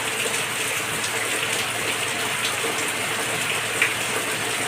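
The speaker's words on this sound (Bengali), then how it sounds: "কন্টিনিউ বৃষ্টি হচ্ছে থামার নামই নিচ্ছে না" Continuous rain falls steadily outside a home, a dense even hiss that stays moderately loud throughout with no talking.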